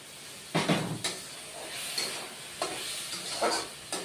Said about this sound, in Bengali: এবার পোস্তটাও একটু কষিয়ে নিব